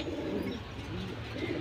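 Red-pati military silver pigeons coo in low, soft, rolling calls close by, continuous through the short stretch with no talk.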